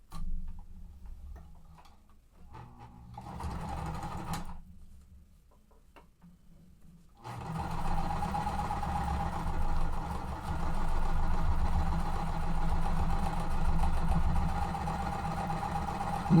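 A home sewing machine runs steadily, stitching quilt fabric pieces together, starting after short stop-and-go bursts and then humming with a fast, even mechanical rhythm, close and alone.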